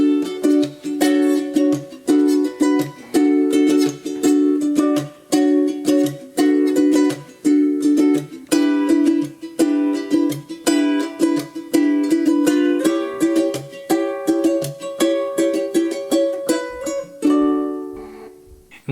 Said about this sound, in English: try doing a down, down, up, slap pattern